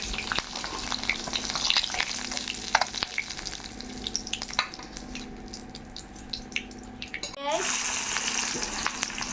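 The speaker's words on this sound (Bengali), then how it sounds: "লাল লাল করে ভেজে নিব।" Steady sizzling of potatoes for egg and potato curry frying in oil, a continuous crackle with occasional clinks of a utensil, no voices.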